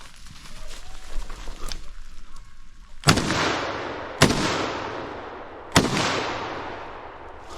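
Rifle fire at a roe deer during a big-game hunt: three loud, sharp cracks spaced a second or so apart, each with a long ringing tail, following quiet rustling outdoor ambience.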